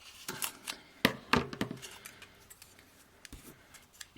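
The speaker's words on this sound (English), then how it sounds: "I'm just going to trim it." Scissors trimming paper to make a sleeve for an altered paper clip, close up. Several sharp snips and clicks come in irregular bursts, with quieter rustles between them and no talk.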